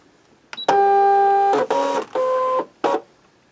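Cutting machine with a built-in scanner drawing a cutting mat in for a scan, giving a loud tonal whir with steady pitched harmonics, then several shorter motor bursts, close and with no talk.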